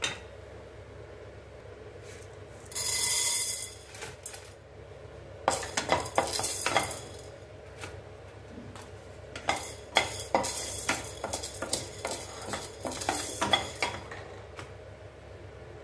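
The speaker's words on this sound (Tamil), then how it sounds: "இப்போ இதை எடுத்துட்டு நம்ம கருப்பு உளுந்து சேர்த்து வறுத்துக்கலாம்" Black urad dal dry-roasting in a pan for chilli idli podi, stirred with a spoon in a run of scraping, rattling strokes that come in bursts over a low steady background, with one short brighter clatter near the start.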